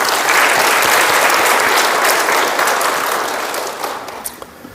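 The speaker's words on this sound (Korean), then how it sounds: "감사하는 마음으로 박수 한번 보냅시다" An audience at a talk applauds in a dense, continuous wash of many hands that stays loud for a few seconds, then thins and fades away to scattered final claps.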